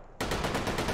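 Bren gun in Hot Dogs, Horseshoes & Hand Grenades firing full auto, a quiet lead-in then a loud sustained burst of evenly spaced shots at a steady, moderate rate, close and dense.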